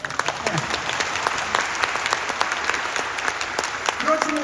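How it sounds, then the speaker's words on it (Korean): A church congregation at a national prayer meeting breaks into scattered applause, with individual claps audible under a voice. "박수 좀 치세요."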